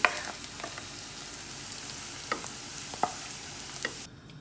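Stuffed bitter gourd (karela) frying in very hot oil, a steady soft sizzle broken by occasional pops and crackles, heard up close with no talking.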